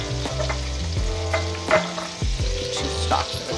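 Onions frying in a pot for clam chowder, a continuous close sizzle with a low rumbling undertone and occasional stirring scrapes, no speech.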